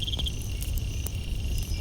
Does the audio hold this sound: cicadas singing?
yes